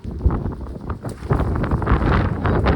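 Strong wind on a hilltop at Saputara buffets the microphone in loud, irregular gusts that roar and rumble for a few seconds.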